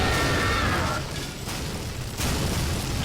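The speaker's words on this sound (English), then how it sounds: "Those cannons really do some damage" Heavy booming blasts fill the clip, with loud broadband explosion noise that dips briefly and then surges back, like cannon fire in a game.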